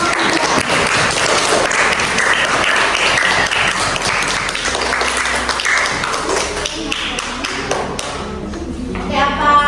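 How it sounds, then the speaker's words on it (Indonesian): Students clap for a group in a chemistry classroom, a dense, steady patter of many hands close by that runs for most of the stretch before thinning out near the end. "tepuk tangan untuk kelompok 3."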